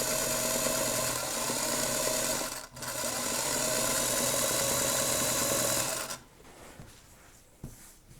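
A sewing machine stitches fabric with a steady, loud, continuous whirring drone for about six seconds, briefly dipping once, then stops and leaves quiet handling sounds.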